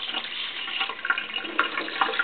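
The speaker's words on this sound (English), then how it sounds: "I'm going to simply water the plant like this." Fertilizer water pours over a Phalaenopsis orchid plant, a steady close splashing and trickling with a few brighter drips, no talking.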